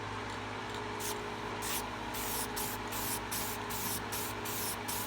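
Continuous aerosol spraying of a finish coat hisses close up, pulsing in a series of short bursts, with a constant low hum underneath.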